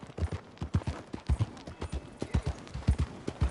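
Horse hooves clip-clop steadily in a video game set around Saint Denis, a close, rapid, even beat of sharp thuds that runs the whole time with no talk.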